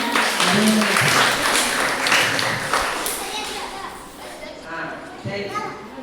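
Audience applause for a banana grower, wishing him a better price per kilo, rises as dense clapping with children's voices and chatter mixed in, then thins out toward the end.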